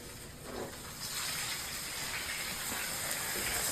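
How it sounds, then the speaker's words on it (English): A steady, quiet sizzling hiss of fish cooking with lemon in a hot pan, continuous and close, with no talking. "So, can you hear that sizzle?"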